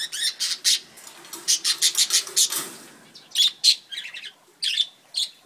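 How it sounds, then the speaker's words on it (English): Pet budgies chirp and tweet inside a home bird cage, a busy run of short, bright calls with brief pauses, close and fairly loud, with quieter squawks between bursts. "So this is the budgie side."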